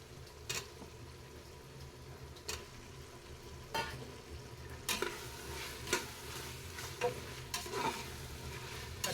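Quarter kilo of tomatoes sautéing in a pan for chicken biryani cooked in a pressure cooker, a steady low sizzle broken by sharp scraping stirs every couple of seconds, close and fairly quiet, with no talking.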